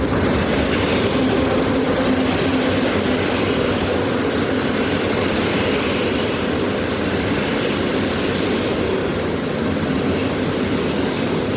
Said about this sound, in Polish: Wjeżdża opóźniony Intercity Ślązak EU